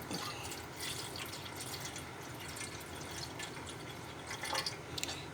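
Water being poured into a container sitting on a food scale while measuring out fluids for homemade bread, a steady close splashing trickle with small drips near the end.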